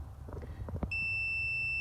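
A steady high-pitched electronic beep starts partway through and holds continuously to the end, after a few faint clicks and handling noises.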